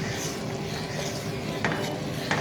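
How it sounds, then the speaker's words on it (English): A spoon stirs a dark Cajun roux in a pot for gumbo, with soft steady scraping and light sizzling, plus a few sharper clinks of metal against the pot near the end. "we're going to keep stirring until it cools off a little bit, because we sure don't want it to burn"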